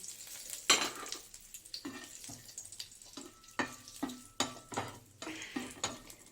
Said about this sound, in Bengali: তেলটা গরমই আছে এই যে দিয়ে দেবো হলো গরম মশলা তেজপাতা শুকনো লঙ্কা ফোড়ন দিয়ে দিচ্ছি